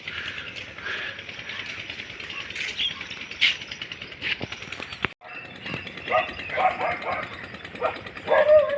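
Dogs on a rural farm bark and yip repeatedly while scaring goats away, mixed with a loud outdoor commotion of rustling and flapping; a voice speaks over the noise.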